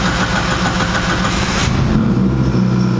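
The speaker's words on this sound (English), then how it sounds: "When I turn it on, you can hear the pump prime, cluster lights up, and truck runs." A 600hp drift truck's engine runs steadily after a key start, a loud, close mid-pitched drone that shifts to a smoother idle partway through, with no talk over it.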